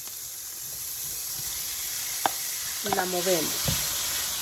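Meat fries with onion and garlic in a pan, giving a steady, bright hiss of sizzling close by, while a person speaks briefly and utensils clink as it is stirred.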